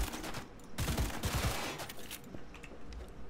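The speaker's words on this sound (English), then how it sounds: "Oh, it's a smart gun. Ooh, it's a three burst too." A smart gun firing three-round bursts in Cyberpunk 2077, with several sharp clustered bangs in quick succession near the start and fainter shots trailing off, loud and close with no voice over them.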